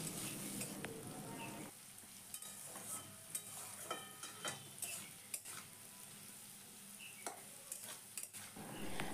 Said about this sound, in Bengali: আলুটাকে এইভাবে ভাজতে ভাজতে দেখবে আলুটা খুব ভালোভাবে ভাজাও হয়ে যাবে